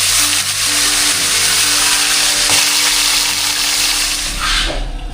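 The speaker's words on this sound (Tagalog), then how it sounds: "Magprito muna tayo ngayon. Saka isang tilapia." Tilapia fish frying in hot cooking oil, a loud, continuous close-up sizzle and crackle that stays dense throughout before easing slightly at the very end.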